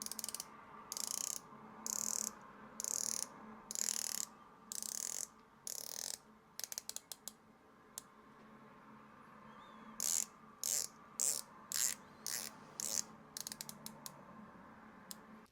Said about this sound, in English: The bezel action is outstanding.